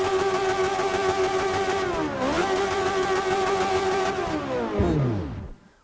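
A prototype race car engine in Forza Motorsport 6, Logitech G Car Pack, holds a loud high-pitched rev, dips briefly and climbs again, then winds down and fades out at the end.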